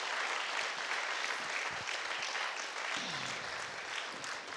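Audience at an ecology debate in a cultural centre applauding volunteers, a steady, fairly faint wash of clapping from many hands held at an even level throughout.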